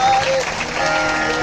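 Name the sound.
devotees clapping at religious katha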